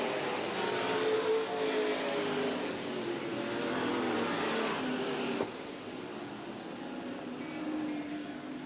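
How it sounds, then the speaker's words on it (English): Super stock race cars roar around the oval at Eugene Speedway, a continuous loud blended engine drone with rising and falling pitch as cars pass, heard at a distance without voices. "Mark Jones continues to lead the race."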